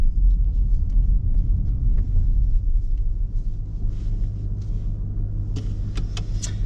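Audi RS6 engine rumbling low and steady as the car pulls in slowly, with a few faint clicks and rattles near the end.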